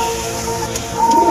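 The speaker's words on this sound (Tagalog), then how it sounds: "dito tayo sa kalapatihan natin. Ito na lang pala yung mga kalapati natin" Pigeons in a pigeon loft coo softly and continuously, close by, with low rolling calls layered over a steady outdoor background.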